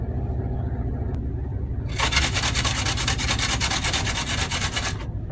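Food is rubbed steadily across the large holes of a hand grater, a close rasping scrape starting after a couple of seconds and continuing evenly over a low background rumble.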